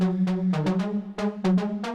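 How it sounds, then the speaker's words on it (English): A distorted saw lead synth forms the main body of a bass layer, a buzzy sustained low note cut by rhythmic stabbing bursts in a syncopated pattern, loud and close with no voices. "the main body of the bass is this saw lead that sounds like this"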